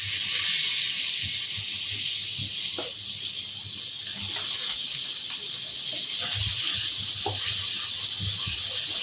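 Two large finely chopped onions sizzling as they sauté in a pan, a loud steady hiss that holds unbroken throughout, close up with faint background sounds beneath.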